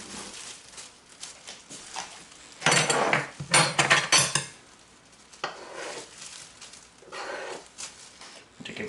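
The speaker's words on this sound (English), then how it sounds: "I'm going to take a bowl." A mixing bowl taken out in a home kitchen while preparing calzone dough, with a burst of clattering dishes and knocks in the middle, then lighter scattered clinks and rustling.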